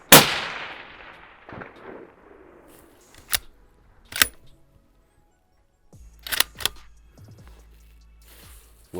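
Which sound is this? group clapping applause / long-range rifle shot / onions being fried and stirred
long-range rifle shot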